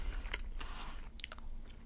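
Crisp, crunchy bites and chewing of tempura sushi during a sushi platter meal, heard close up as a few separate crunches spread over a couple of seconds with no talking.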